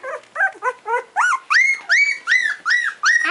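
Several four-week-old English Cream Golden Retriever puppies whine and whimper close by in a steady run of about ten high, rising-falling cries, loud and without talk.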